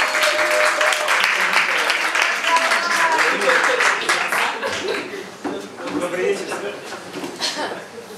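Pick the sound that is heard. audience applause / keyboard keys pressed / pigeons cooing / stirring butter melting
audience applause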